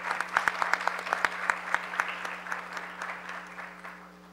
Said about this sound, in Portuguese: Vem para cá para receber o aplauso de todos, por favor.